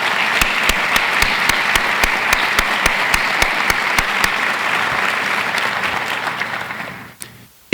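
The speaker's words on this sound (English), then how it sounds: "Let's applaud these folks for making this project come to life." An audience at a university State of the University address breaks into steady, loud applause that fills the hall, with a few sharper individual claps standing out, then fades away near the end.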